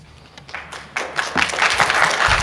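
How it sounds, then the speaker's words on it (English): Applause from attendees at a public meeting, starting as scattered claps and swelling into louder, denser clapping toward the end. "Hold your applause."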